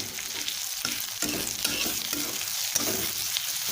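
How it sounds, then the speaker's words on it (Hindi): Onion and curry leaves stirred in a frying pan for poha made from leftover rice, a close crackling sizzle broken by rhythmic scrapes of the spatula, with no voices. "प्याज डालने के बाद मैं मीठा नीम की पत्ती को भी डाल दूंगी और इसे चला लूंगी।"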